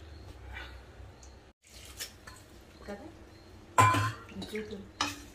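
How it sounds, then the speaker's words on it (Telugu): Sesame seeds being dry-roasted in a pan on a stove for a drumstick sesame curry, with scraping stirs and clattering metal knocks, close by and fairly quiet, with no talk. "నువ్వులు వేయించుకోవాలండి"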